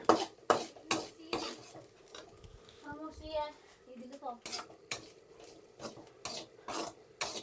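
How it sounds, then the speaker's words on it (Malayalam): Grated coconut dry-roasted in a pan without oil: rhythmic scraping and clattering strokes of a spatula against the pan, with a voice briefly in the middle. "നമ്മളിതാ തേങ്ങയല്ലേ വറുത്തെടുക്കുകയാണ്. ഞാൻ എണ്ണ ഒഴിച്ചിട്ടില്ല കേട്ടോ."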